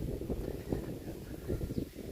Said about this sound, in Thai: ลมเย็นสบายเลยนะครับท่านผู้ชม